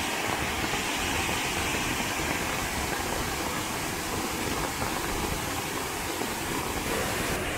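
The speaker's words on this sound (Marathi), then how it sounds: "जोरदार पावसानंतर जोरदार पाणी आले बघा" Savdav waterfall in a Konkan village roars after an hour of heavy rain, a dense, constant rushing wash of water that stays loud and unbroken throughout.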